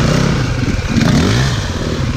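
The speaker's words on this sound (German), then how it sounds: "du gibst voll Gas" An enduro motorcycle at an offroad park revs hard, its engine roaring loud and close with a wavering pitch and some clattering over the rough ground.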